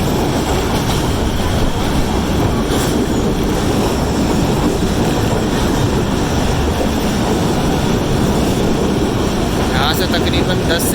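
Rumble of the 48 Down Rehman Baba Express running toward Hyderabad on the Nawabshah–Karachi route, a steady, loud broadband roar of wheels and carriage noise throughout, with faint higher squeals near the end.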